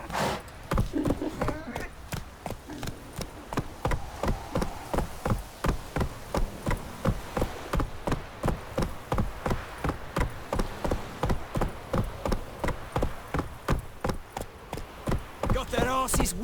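Roach, the horse in The Witcher 3, trots with a steady, rapid clip-clop of hooves that continues evenly and close by for the whole stretch.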